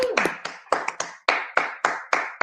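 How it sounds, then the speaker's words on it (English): Sparse applause at a brain tumor walk event: a handful of separate sharp claps spaced roughly evenly, close and moderately loud, as if from only a few people or a single pair of hands. "So one more round of applause for that team."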